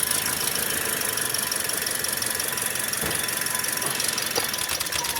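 Misfiring Toyota Vios dual VVT-i engine idling, a continuous uneven mechanical clatter with a faint high whine, close and steady, with a couple of sharp knocks partway through.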